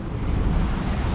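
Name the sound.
ocean waves crashing against jetty rocks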